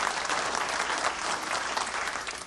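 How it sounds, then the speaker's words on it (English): Dense, steady applause from an audience greeting a lecture on blue Carnival Glass, many hands clapping in an even wash that holds for the whole stretch with no voices on top. "would you join me in a round of applause for these folks?"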